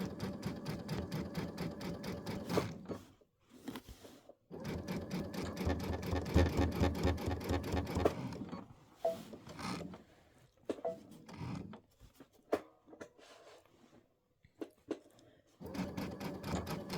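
A sewing machine joins quilt sections where four seams meet, running in long steady stretches that break into shorter stop-start bursts with quiet gaps between.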